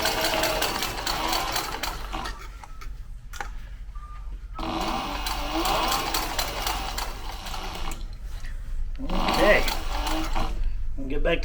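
A sewing machine stitches a backpack in several bursts of rapid mechanical whirring separated by short pauses, close and moderately loud, with a voice speaking briefly.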